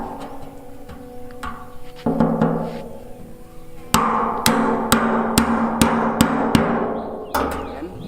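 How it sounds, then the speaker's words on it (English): A hammer taps a glued plastic pipe joint on a water tank line drawn from a river, giving sharp separate knocks that speed into a quick run of strikes near the end. "Hammer it."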